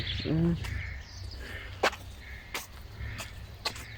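A young bird calling at a forest campsite in Kocaeli gives a few short chirps near the start, followed by scattered faint calls over a low outdoor background. A person speaks softly in between.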